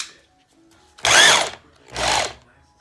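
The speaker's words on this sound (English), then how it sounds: "Hammer drill, put it on hammer drill." A hammer drill fitted with a 3/16 bit runs in two short, loud bursts of about half a second each, close by, while installing a fireplace door. No one speaks.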